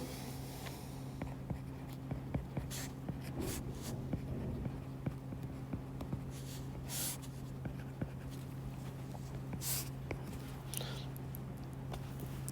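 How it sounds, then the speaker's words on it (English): Pencil or pen writing out a quadratic formula by hand, faint scratchy strokes and taps scattered over a steady low electrical hum, close up. "I'm going to write out my formula"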